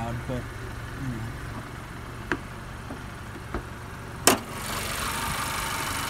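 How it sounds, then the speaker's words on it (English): Hood latch release on a 2017 Honda Accord Sport Special Edition: a couple of faint clicks, then one sharp, loud metallic pop near the end over a low steady background hum. "I'll try to pop the hood."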